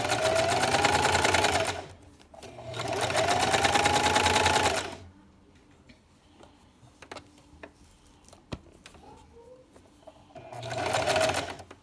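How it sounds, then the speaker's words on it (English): A home sewing machine straight-stitching fabric for a newborn baby sleeper runs in two long steady bursts, pauses with soft handling clicks, then whirs again briefly at the end. "we're going to straight stitch our way down here"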